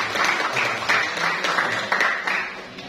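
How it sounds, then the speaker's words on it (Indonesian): An audience applauds at a Christmas celebration at SMAN 4 Palopo high school, with dense, steady clapping that swells in small waves for about three seconds. "silakan diberikan aplaus"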